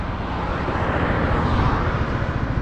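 Yamaha Majesty 155 S scooter from 2019 on a test ride, its engine drone blended with steady, loud wind rush throughout, continuous and close with no talk.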